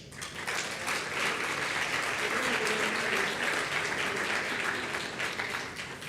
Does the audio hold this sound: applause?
yes